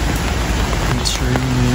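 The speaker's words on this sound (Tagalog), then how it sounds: "It's raining." Rain falling steadily around a covered night market in Baguio, a dense continuous patter close by, with voices talking over it.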